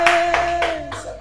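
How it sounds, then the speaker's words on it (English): Hands clap in a classroom in four evenly spaced, loud claps heard close by, with a faint tonal hum underneath. "A round of applause for him."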